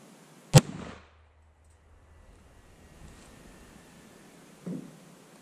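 A single sharp 6.5 Creedmoor rifle shot firing a high-velocity 156-grain Norma Alaska round-nose soft-point load into a gel block outdoors, a loud crack with a brief rumbling tail, then quiet wind-like background and a faint thump near the end.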